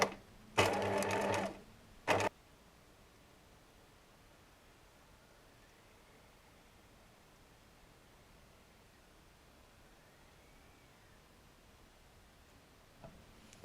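A sewing machine sewing a buttonhole gives one loud, fast burst of stitching lasting under two seconds, then a short second burst, followed by long near-silence with faint rustling and a small click at the end.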